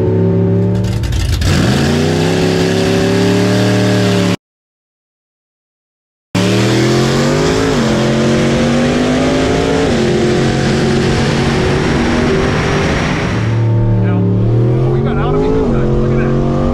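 Loud drag car engines roar and rev hard off the line, one a full drag car on big tires, pitch climbing through repeated gear changes, with a brief dropout midway and voices faintly under the din.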